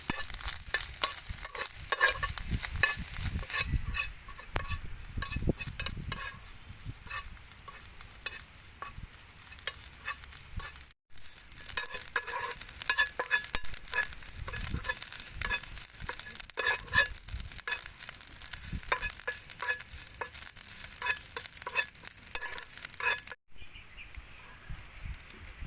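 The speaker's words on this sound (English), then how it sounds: "Then we fry it like this. Fry it until it already cooked." Insects frying in a pan, a steady close crackling sizzle with continuous stirring and scraping that carries on for the whole stretch with brief pauses and no speech.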